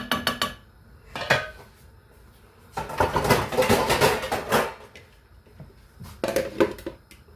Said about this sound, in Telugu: ఇది ఉడికేటప్పుడు జంప్ అవుతుందన్నమాట, అందుకని మూత పెడతానండి